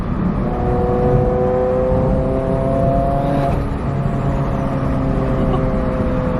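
A turbocharged Subaru BRZ engine hums steadily from inside the cabin as it drives, with a faint turbo whine rising over the drone.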